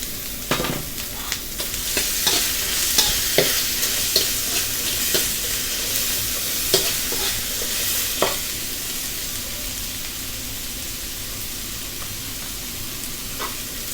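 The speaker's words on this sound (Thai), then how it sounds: "แครอทครับใส่ลงไปผัดรงกันเลย" Fried snakeskin gourami pieces and carrots stir-fried together in a hot pan, a steady sizzle with repeated scraping and tossing clatters of the utensil at an irregular pace, close and fairly loud.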